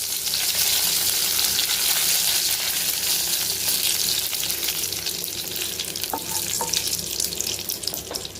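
Curry leaves dropped into hot oil with mustard seeds and urad dal crackle in a loud, dense, continuous close sizzle with brief stirring clinks, without any voice.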